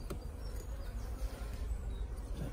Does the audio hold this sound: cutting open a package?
no